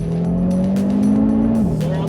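A 2022 Audi RS3 in performance mode is driven hard on a racetrack, its engine droning steadily with a shifting tone while tires squeal through a corner, heard close beneath a voice.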